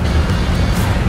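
An Alfa Romeo Giulia on a dyno at its rev limit gives a dense, loud, unbroken mechanical roar that holds steady for a brief moment.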